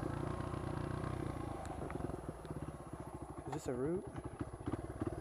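Honda XR100 dirt bike engine running on a wooded trail track, a close, rough idle with rapid regular pulsing that briefly revs up, then stumbles as if about to die, with a person speaking over it.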